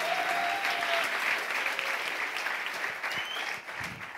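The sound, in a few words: church congregation applause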